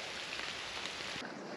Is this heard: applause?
no